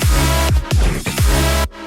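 Bass line of a house track heard within the full mix: loud, deep layered bass hits pulsing in a steady dance rhythm with dense synth texture above, ending abruptly.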